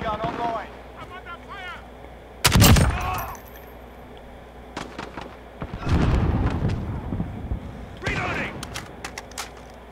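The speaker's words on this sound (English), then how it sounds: "Somebody's sentry gun is firing up." A sentry gun fires in a Call of Duty Modern Warfare match, with bursts of rapid gunfire and heavy thumps under players' chatter and game voice lines.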